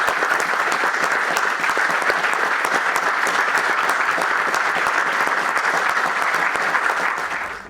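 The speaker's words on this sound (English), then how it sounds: "I think we should all give the new Chief Constable a big round of applause." A crowd at a swearing-in ceremony for a new Chief Constable on the Isle of Man applauds loudly and steadily, dense even clapping that holds for the whole stretch and only tapers at the very end.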